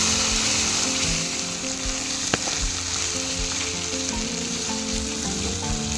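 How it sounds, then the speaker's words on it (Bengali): Turmeric, cumin and chili powder spices frying in hot oil in a pan, a dense steady sizzle heard close up with a single sharp clink of a utensil midway. "মশলা ভাজা হয়ে গেছে"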